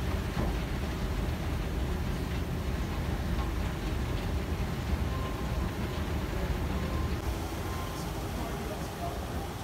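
A metro station in Dubai with a train, heard as a steady, loud rumble and hiss of rolling cars and station noise that fills the whole stretch without letup.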